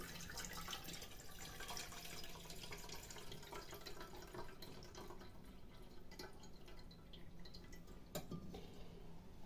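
Hot brine draining out of a jar of marinated zucchini through a perforated lid into a pot, a steady thin trickle with drips and faint splashes, close and quiet.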